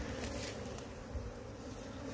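Bees swarm on the ground around a fallen queen while hives are checked, a dense, continuous buzzing drone that is close and moderately loud, with no voices.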